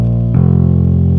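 Mono synth bass in Ableton with a very short reverb added for stereo width, a loud sustained buzzy low note that shifts to a new pitch partway through, alone with no talk.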